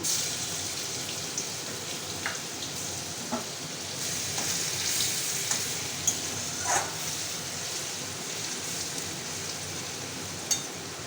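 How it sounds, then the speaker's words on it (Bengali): Garlic frying in a pan for a vegetarian-style mutton curry, a soft continuous sizzle with occasional scrapes and light clinks, fairly quiet, with no talking. "রসুনটা দেবো, ভাজবো একটু"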